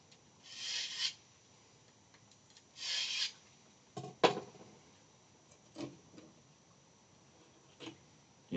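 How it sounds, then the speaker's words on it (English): A knife is drawn through a handheld knife sharpener with short rasping strokes, two clear pulls followed by scattered clicks and light scrapes, quiet and close in a room. "So to get the process started, I will first sharpen the knives."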